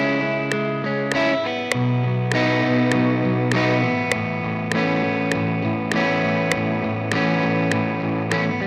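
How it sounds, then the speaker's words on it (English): Indie electric guitar played with steady down strums through an effects plugin, bright distorted chords with chorus and echo, each strum a sharp attack ringing into the next at an even rhythm, with no voices. "I basically just done down strums for the part that's going to be the verse"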